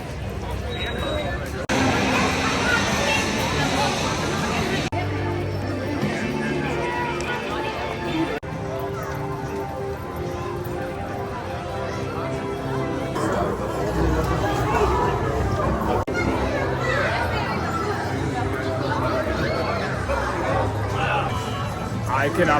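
A large crowd walks through Universal Studios Hollywood toward Super Nintendo World, with continuous babble of many voices, shuffling footsteps and park background noise, and a nearby person talking throughout.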